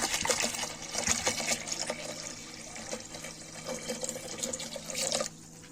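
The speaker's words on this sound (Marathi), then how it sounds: "एक ग्लास पाणी घालून घेऊ" Water pours and splashes into a metal pressure cooker up close for several seconds, a gurgling continuous stream that stops abruptly near the end.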